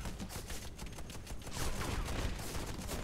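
Rapid bursts of gunfire from the video game Warface crackle in quick succession, with a busy, dense, artificial quality; fairly quiet overall, no speech.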